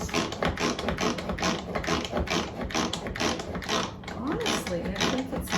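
A manual push chopper mincing food, its plunger pressed repeatedly in quick mechanical clacks and ratcheting clicks, close by, with a person talking over it.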